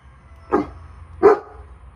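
A dog barks twice, two short separate woofs nearby, with quiet room noise between them.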